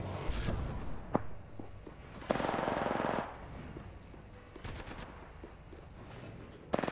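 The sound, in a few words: gunfire in the video game Apex Legends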